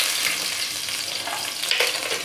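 Garlic and dried chillies fry in hot oil, giving a close, dense, continuous sizzle and crackle with a few louder spitting bursts and no voices.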